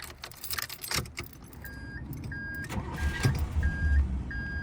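Keys jangle, then an old car, a 1969 Buick Special or a 1981 Oldsmobile, is started while already warm, its engine cranking and catching with a low rumble that builds toward the end, close by with no talk.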